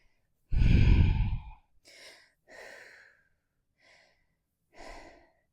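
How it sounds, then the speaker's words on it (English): A deep, long exhaled breath during a vinyasa yoga flow, close and loud, followed by a few softer, shorter breaths with no talking. "Exhale, fold on forward"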